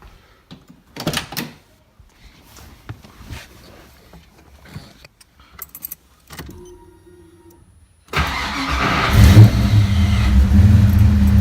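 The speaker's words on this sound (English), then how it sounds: "Let's just go make sure she starts again." A Foxbody Mustang with a new starter cranks and fires up, then settles into a loud, steady idle after some earlier clicks and shuffling in a quiet garage.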